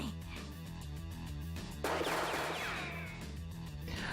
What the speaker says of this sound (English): The sound of firing echoes in the hallway.